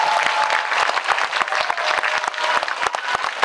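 Audience applause at a Korean film talk event for the movie Money, a full, continuous round of clapping with crisp individual claps, steady throughout.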